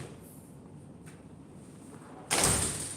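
An aluminum showroom door with a narrow frame and hidden hinge shuts in a single firm thud near the end, after a quiet stretch of room tone.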